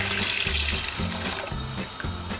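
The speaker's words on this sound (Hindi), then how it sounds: "ये हम ठंडा पानी इसमें डालेंगे" Cold water, about 250 ml, is poured into simmering Kashmiri tea, a close splashing, gurgling stream with a pulsing rhythm and no talking.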